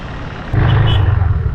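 A KTM RC 390 motorcycle, freshly restored after an accident, runs close by with a loud, steady engine drone that swells into a deeper throb partway through the short burst.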